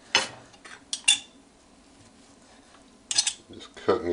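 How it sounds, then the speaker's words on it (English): A knife slices through a whole roast chicken cooked in a Ninja Crispi Pro air fryer, giving a few short, sharp scraping clinks against the plate or board, close and quiet, separated by near-silence. "Just cutting these slices off here"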